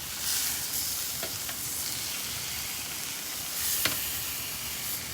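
Filet mignon sears in a Saladmaster electric skillet, giving a loud, continuous close-up sizzle and crackle with a few sharper pops and scrapes along the way, and no talking.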